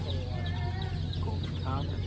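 Barred Rock chickens cluck softly at a distance over a low steady background hum, with a brief brighter call near the end.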